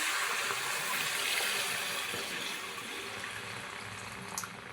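Tamarind juice poured in one steady stream into a pan of fish curry, a continuous liquid splash and gurgle that stays close and fairly loud, easing a little toward the end.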